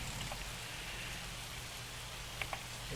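Steady rain in Farming Simulator 25 hisses as a constant, even wash of drops across the whole stretch, with a couple of faint ticks near the end and no talking.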